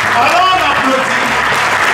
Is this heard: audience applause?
yes